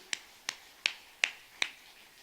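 Five sharp, evenly spaced claps ring out about a third of a second apart during a Sunday worship service at a church in Gimpo, fairly faint and crisp against a quiet room with no talking.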